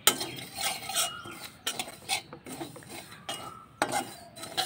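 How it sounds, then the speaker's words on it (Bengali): A spoon stirs semolina in a pan being warmed for rasgulla, giving repeated close scraping and metallic clinks in irregular bursts with short quiet gaps. "আগে একটু লাড়া দিয়ে নেব সুজিটা।"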